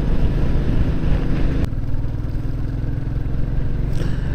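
Royal Enfield Classic 350 motorcycle on the Malshej Ghat road, its steady engine drone and wind rumble running continuously up close, with a brief click partway through.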